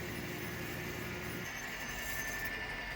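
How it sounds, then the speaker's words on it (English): A model train runs on a home layout, giving off a continuous low electric whir and rolling hum that stays steady and fairly quiet, with no speech. "this train has been running non-stop for a couple of hours"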